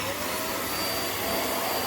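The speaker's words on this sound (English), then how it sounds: "I've sprinkled some sawdust on carpet just to show you how easy this vacuum is to use." A Vax Mach Air upright vacuum cleaner runs on sawdust-sprinkled carpet, a loud, steady, close whooshing whine with no voices over it.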